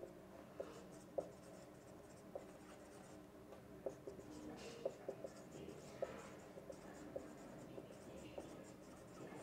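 During a physics lecture, chalk or marker strokes on a board make faint, irregular taps and scratches over a low room hum, with a voice speaking softly in the background.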